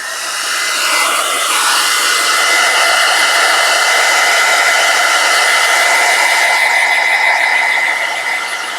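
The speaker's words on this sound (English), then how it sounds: "if you decide to use a hairdryer, you need to turn it on cool and then high or low" A hairdryer set to cool blows across freshly painted areas of a miniature, its steady whirring rush of air running loud and continuous, with a slight rise and fall in pitch near the end.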